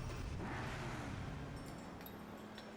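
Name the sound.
car engine in a video game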